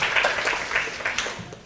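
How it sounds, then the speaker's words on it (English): Audience gives a warm round of applause at a speaker series event, moderately loud clapping with uneven bursts across the short stretch. "warm round of applause"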